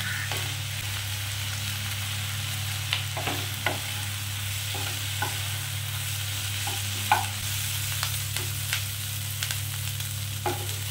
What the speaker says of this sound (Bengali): বেশ লাল করে পেঁয়াজটা একটু ভাজতে হবে।